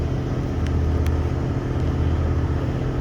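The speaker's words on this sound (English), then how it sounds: "Gotta spin the motor up a little bit, let some pressure build up in the transmission" The engine of a Toyota Camry ute, which has an oil pressure fault, is held at raised revs, giving a steady, loud, close rumbling drone with no clear rises or drops.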